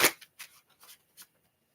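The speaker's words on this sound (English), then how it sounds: "This is the last shuffle." Tarot cards riffled in a quick shuffle: a sharp burst of flicking and slapping followed by several softer card snaps at uneven intervals, close and fairly quiet with no voices.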